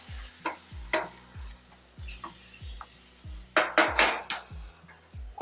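Mutton with yogurt for Nilgiri korma sautés in a pan: a steady rhythm of spoon strokes thuds and scrapes about twice a second over a faint sizzle, growing louder and busier toward the end.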